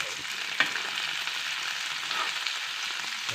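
Fish frying in a pan, with a dense, steady sizzle and crackle of hot oil close by, one brief sharp clatter near the start, and no voices.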